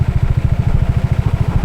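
A Honda Click 160 scooter engine runs steadily during a test run, a close, loud, low pulsing putter with an even rapid rhythm and no talk over it.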